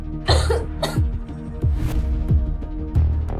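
A woman coughs from a cold in a close, fairly loud series of short, harsh coughs, about five or six bursts with brief gaps between them and no talk.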